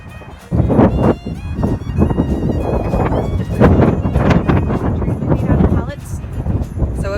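Wind gusting outdoors across a microphone in a backyard, a loud, continuous rumbling buffet that swells and dips throughout, with people talking over it.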